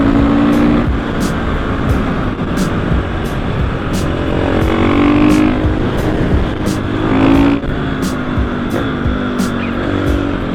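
Motorcycle fitted with an FMF exhaust riding along a road, its engine note loud and continuous, rising and falling with throttle through the whole stretch, with steady rumble and wind underneath.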